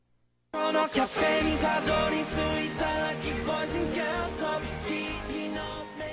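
The anime theme song for Polar Bear Cafe, an upbeat song with full instrumentation and a steady beat, plays loudly after a brief silence, continuing throughout.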